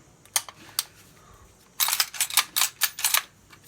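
Dry trigger pulls on a VZ58 2008 sporter rifle: two isolated sharp mechanical clicks, then a quick run of six or so crisp snaps, close and fairly loud, with no talking.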